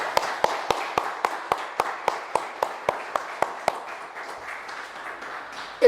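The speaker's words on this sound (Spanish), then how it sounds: "Y les pido a todos un fuerte aplauso para Julio." A church congregation claps in unison, about fifteen sharp claps on an even beat that grow slightly softer toward the end.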